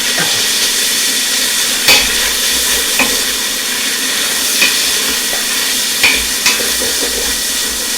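Pork browning in a hot pan for corn and oyster chowder, a loud continuous sizzle with occasional sharp clinks of stirring, no talking.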